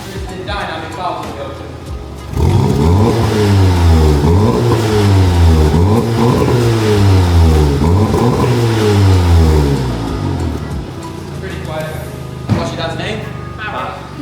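A Volkswagen Golf R engine with straight-pipe exhaust revs up hard and roars loudly for several seconds, rising and falling in repeated surges before settling back to idle.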